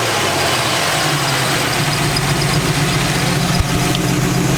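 Cammed Chevy C10 truck engine idling close by, a steady deep loping rumble with constant vibration and no talk.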